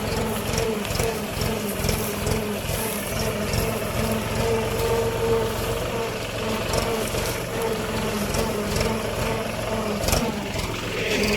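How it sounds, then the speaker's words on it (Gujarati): A tractor engine rumbles continuously on a farm, a steady loud low mechanical drone with rattling, holding level throughout. "મોટા ભાઈ ટ્રેક્ટર લઈને આવી રહ્યા છે"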